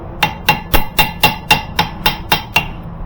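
Nine evenly spaced, sharp metal hammer strikes ring out close and loud, bending steel tabs up against a nut on an automotive vehicle lift during installation, with no talk.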